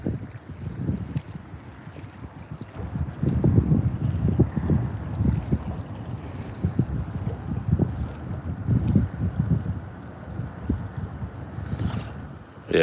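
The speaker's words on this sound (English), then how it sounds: "Yeah, it's windy today." Wind buffeting a microphone in heavy, uneven low rumbles and gusts that swell and drop for several seconds, with no talking.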